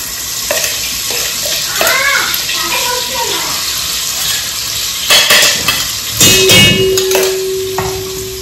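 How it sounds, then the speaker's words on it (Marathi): Water is poured into a sizzling jeera, green chilli, garlic and coriander tempering for kulith shengule, giving a bursty hiss and splash with clinks of a pan, and a voice speaks briefly over the cooking sounds. "त्याच्यात पाणी टाकून घेतलं"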